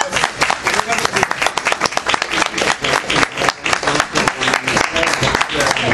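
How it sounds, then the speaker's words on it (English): Audience applause at a Diwali-Eid community dinner, loud, close clapping from a crowd with uneven swells, mixed with voices talking over it. "give her a big round of applause."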